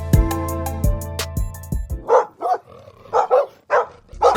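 A bully-breed dog barks in a quick series of loud, close yaps, following strong plucked or struck tones that ring out at the start.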